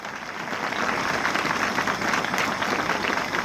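An audience at a school Republic Day function applauds, a dense, steady burst of clapping that fills the whole short stretch with no voices on top.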